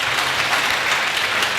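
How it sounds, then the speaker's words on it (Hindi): Dense audience applause at a career seminar in Bihar, a loud continuous wash of many hands clapping together with no voices over it. "तो एक बार फिर से इनके लिए तालियां हो जाए।"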